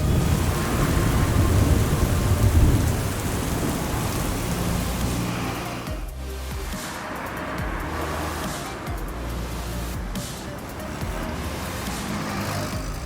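A heavy evening downpour in a thunderstorm hisses steadily, with deep rumbling thunder rolling under the rain and passing traffic faintly mixed in, loud and continuous throughout.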